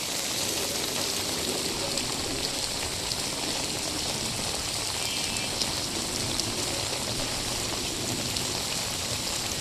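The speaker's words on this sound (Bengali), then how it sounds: "দাঁড়িয়ে দাঁড়িয়ে বৃষ্টির রিমঝিম শব্দ শুনতে লাগলাম।" Steady monsoon rain pours down outdoors while waiting for a rickshaw, a dense even hiss with no pauses, close and constant, no voices.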